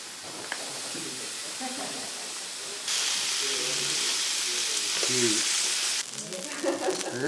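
Sliced peaches sizzle on a very hot grill at a sumo stable meal, a loud, steady frying hiss that swells and drops in level, under people talking.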